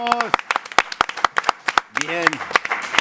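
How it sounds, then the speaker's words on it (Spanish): A small studio audience claps in scattered, uneven bursts on a Spanish film-analysis show, with individual hand claps audible and people talking and cheering over them. "un aplauso para el público"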